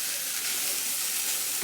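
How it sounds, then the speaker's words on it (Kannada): Grated carrot halwa frying and being stirred in ghee, a close, steady sizzle with soft stirring scrapes and no voices. "ತುಪ್ಪದಾಗ ಹುರ್ಕೋಬೇಕು ನೋಡ್ರಿ"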